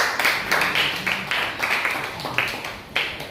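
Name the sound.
audience applause for a student presenter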